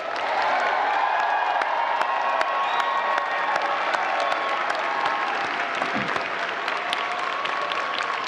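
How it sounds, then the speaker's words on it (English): A large graduation audience at a commencement ceremony applauds the class of 2023 in steady, dense clapping with scattered cheers, continuous and fairly loud. "Let's give the class of 2023 a round of applause."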